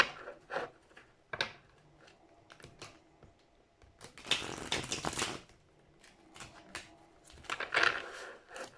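Tarot cards being handled, shuffled and drawn: soft papery riffles and flicks in short bursts with a longer shuffle near the middle, close and quiet.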